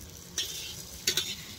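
Mung dal hits a tempering of mustard oil, bay leaf, ginger and green chilli, giving a steady close sizzle broken by a few scraping stirs.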